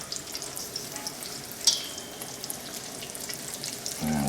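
Chicken cutlet frying in hot oil, a steady close crackling sizzle with scattered pops and a brief clink partway through.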